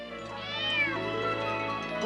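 A kitten gives one long, drawn-out meow that rises and falls in pitch, close and clear over a low steady hum in an indoor setting.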